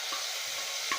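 Masala spice paste fries in a pan for Assamese matar paneer, giving a steady, bright sizzle with faint stirring scrapes, close and continuous, with no voices.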